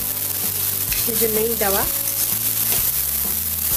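Babor shak greens frying in hot oil in a pan give off a steady, dense sizzle close up, with a voice speaking briefly over it.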